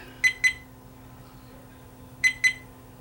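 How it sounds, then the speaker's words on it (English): Two pairs of short, high electronic beeps from a VIOFO A129 Pro Duo dashcam, warning that it is not recording, spaced about two seconds apart over a quiet background hum. "The beeping you hear is an alert to alert you that the camera is not recording"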